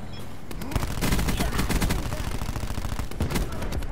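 Rapid automatic gunfire from a weapon in the video game Black Ops 4 rattles continuously for several seconds, dense and loud with sharp repeated bursts.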